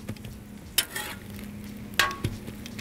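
Eggs frying on a clean griddle for a breakfast burrito: a soft, steady sizzle under a low hum, broken by a few sharp scrapes and taps of a utensil, and no talk.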